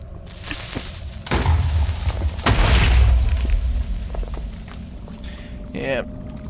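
Firecrackers go off in the game Minecraft, a few loud booming bursts with one big blast near the middle and smaller pops around it, with footstep-like game sounds and talk mixed in.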